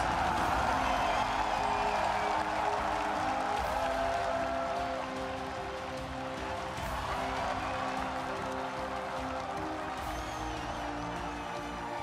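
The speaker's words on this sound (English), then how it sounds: "Standing ovation from the crowd here at Staples Center" A large crowd at Staples Center gives a standing ovation at a League of Legends World Championship final, a dense sustained wall of cheering and applause that holds steady throughout without letting up.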